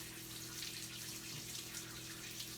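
Filtered tap water runs steadily over almonds in a strainer, a soft continuous close splashing hiss from the faucet with a faint background hum.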